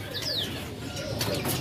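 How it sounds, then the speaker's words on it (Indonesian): A Javan cucak jenggot bird gives a single short, downward-sliding whistle, close but faint against a steady background of noise and rustling. "Lanjut yang ini cucak jenggot Jawa."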